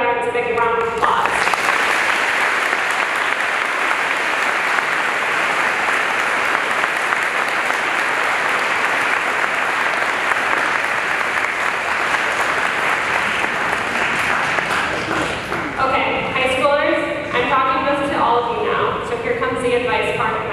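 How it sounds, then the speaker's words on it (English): A large audience gives veterans a sustained, loud round of applause, a dense continuous roar of clapping that begins abruptly, with a voice starting to speak over the fading claps near the end. "let's go ahead and give our veterans a big round of applause"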